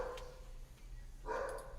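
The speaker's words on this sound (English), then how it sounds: "What are you barking at?" A dog barks indoors near a door, two short barks about a second apart, fairly close and moderately loud over a low steady hum.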